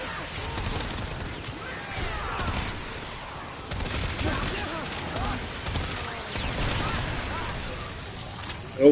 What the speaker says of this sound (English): Got an AoE gun, watch this.